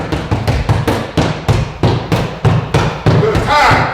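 Hammer fist strikes landing on a handheld training pad during a Krav Maga drill, about ten sharp close thuds in a quick irregular rhythm.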